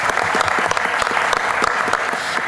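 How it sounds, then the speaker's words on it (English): A conference audience claps steadily after a business presentation, dense close applause filling the room without a break and no speech over it. "Let's give an applause to José Costa."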